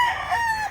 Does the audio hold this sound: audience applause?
no